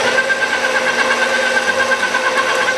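Electric meat grinder running steadily as a last piece of fat is pushed through to clean it out, a constant mechanical whine and hum with no pauses.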